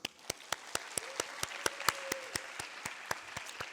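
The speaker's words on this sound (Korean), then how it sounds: "우리 박수 한번 쳐줍시다." A few people, likely children, clap at a Wednesday church service, a sparse, fairly quiet series of evenly spaced claps at a steady rhythm, with a faint tone sounding briefly in the middle.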